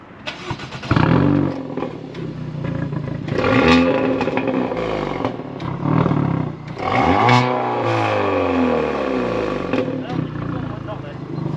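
Modified Hyundai i30N with an aftermarket intermediate silencer, its exhaust revving and crackling loudly at low speed with pops and bangs, close and continuous, with people talking over it.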